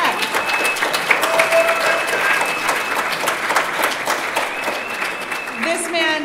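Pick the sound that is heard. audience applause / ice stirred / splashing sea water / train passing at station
audience applause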